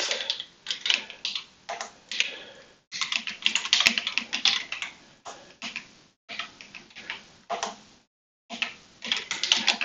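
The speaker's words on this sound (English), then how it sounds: "And I normally don't type this bad." Steady bursts of typing on a Voyager keyboard, close and fairly loud, with clustered key clicks broken by short pauses; no voices.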